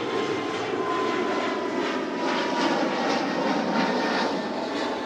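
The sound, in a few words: Boeing 777-300 jet aircraft at Toronto Pearson airport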